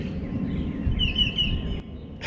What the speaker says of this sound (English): That thing is spouting off this morning and I love to hear that bird.